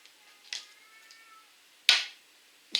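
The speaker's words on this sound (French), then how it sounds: "on entend la baston de chat" Cats fight outdoors at night, sending out a few faint, drawn-out yowls and sharp squalling bursts separated by quiet gaps.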